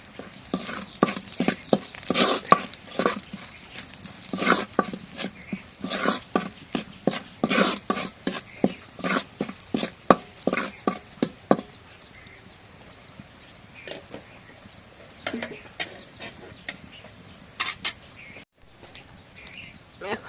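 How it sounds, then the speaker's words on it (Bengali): Garlic and cumin seeds fry in a pan, stirred with a utensil that makes rapid, rhythmic scraping clicks over a low sizzle. The stirring is busy at first, then thins into scattered taps. "এখন রসুন জিরা ভাজা হয়ে গেছে"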